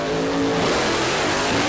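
A mid-1990s alcohol funny car drag racer roars loud and close in a dense, sustained blast of engine noise, with a hint of rising pitch and tire squeal.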